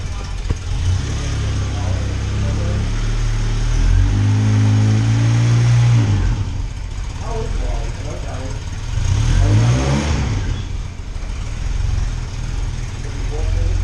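A 1989 Volkswagen Cabriolet with a restored exhaust idles and revs up twice, its engine note swelling and settling close by while people talk over it.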